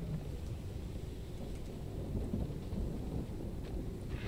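Thunder from lightning striking nearby in the video game Conan Exiles, a steady heavy rumble mixed with rain, loud and continuous with no distinct cracks standing out.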